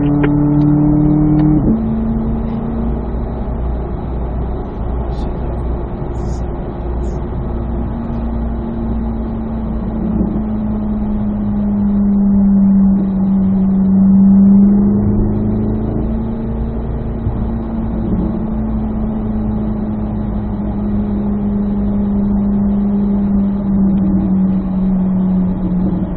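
Several cars roll along together on a cool-down lap, their engines a moderate, steady hum that gradually eases and dips in pitch as they slow, with wind and road noise underneath.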